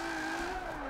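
A car drifting on a track in Forza 7, driven with a Logitech G920 wheel and handbrake, gives a sustained tire squeal and skid over a steady engine drone, loud and continuous for a brief moment.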